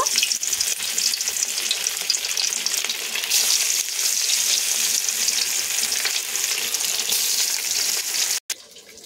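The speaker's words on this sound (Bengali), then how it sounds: "তো কড়াইতে মাছ ভাজা হচ্ছে" Sea baul fish frying in hot oil in a wok, a loud, steady, close sizzle that runs without pause and cuts out briefly just before the end, with no voices.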